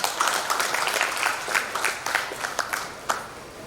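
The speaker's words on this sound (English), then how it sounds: "I want your clapping for each one of them" A business conference audience claps for a speaker being introduced, giving scattered, moderately loud applause with distinct individual claps standing out from the crowd.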